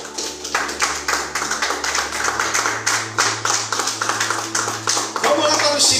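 A church congregation claps for Jesus in a quick, steady rhythm of many hands, close and lively, with a voice speaking over the clapping.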